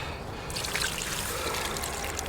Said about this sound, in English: Let's get a bit more water on this now.